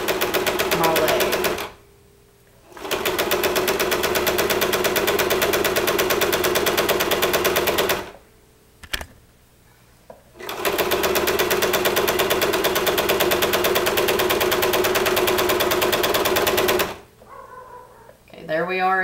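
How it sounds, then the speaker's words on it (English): A sewing machine stitching the inseam of custom pajama bottoms runs in long steady bursts of rapid mechanical chatter, stopping several times between runs. "I'm just going to sew that inseam"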